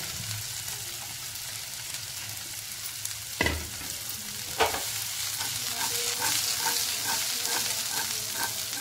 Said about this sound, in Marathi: बारीक केलेल्या 2 मिरच्या घेतल्या, बारीक कापलेली भेंडी आहे ती आपण टाकून घेणार आहे।